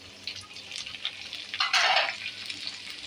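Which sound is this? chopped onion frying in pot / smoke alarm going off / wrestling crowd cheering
chopped onion frying in pot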